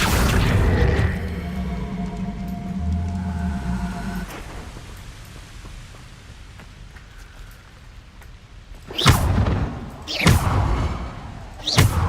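The Accio spell effect in Hogwarts Legacy lands as a sudden whooshing burst followed by a second sharp swell. Both are loud against a low rumbling game ambience with a faint, fading musical tone.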